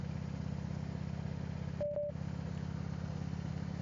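An old Harley Davidson Ultra Classic motorcycle cruising on a morning ride near Lake of the Ozarks, its engine droning in a steady, even rumble throughout, with a brief tonal beep partway through.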